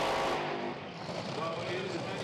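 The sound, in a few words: Top Fuel dragster run at Santa Pod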